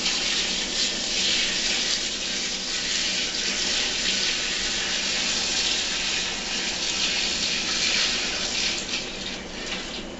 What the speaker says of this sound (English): We're going to go ahead and pour that in there now.